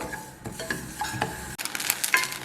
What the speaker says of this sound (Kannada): ನೋಡಿ ಎಷ್ಟು ಚೆನ್ನಾಗಿ ಸೌಂಡ್ ಬರ್ತಾ ಇದೆ ಗೊತ್ತಾಗ್ತದೆ ನಿಮಗೆ ಇದು ಚಟ್ಪಟ ಚಟ್ಪಟ ಅಂತೇಳಿ ಹರಳು ಥರನೇ ಹರಳುತ್ತೆ